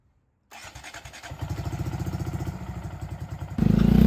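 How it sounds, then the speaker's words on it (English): A Honda Monkey 125 motorcycle engine cranks briefly, catches and settles into a fast, even idle, loud and close, then rises sharply toward the end. "We are going to start the engine up and get it nice and warm"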